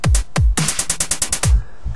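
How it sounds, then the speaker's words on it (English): Dubstep beat programmed in FL Studio, with deep booming kick hits and a rapid run of bright, crisp hi-hats packed toward the end of the bar, punchy and dry. "What I'm doing for this one is I'm going to add a bunch of hats at the end"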